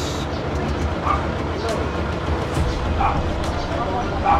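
Several dogs yip and bark in short bursts amid loud, steady background noise, mixed in with people talking nearby.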